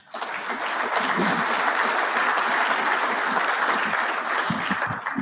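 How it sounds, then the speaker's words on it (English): Sustained applause from a dinner audience at a military acquisition awards event, dense and steady for several seconds with a few voices mixed in. "A round of applause for you"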